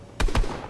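Two sharp gunshots fire in quick succession in the Fortnite video game, loud and close, each a short cracking burst.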